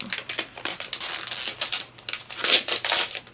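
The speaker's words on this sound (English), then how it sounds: "Let me open this package so we can have a closer look." Plastic packaging of mixed media watercolor stickers being torn and opened, a close, busy run of crinkling and crackling with brief pauses, no voices.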